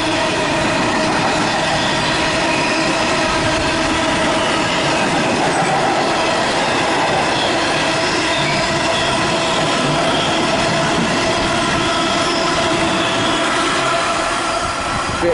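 A Class 60 locomotive, 60-100, rumbles steadily through Beeston station on the Midland Main Line, a loud continuous roar of wagons and wheels rolling past close by for the whole stretch, with wind buffeting in the background.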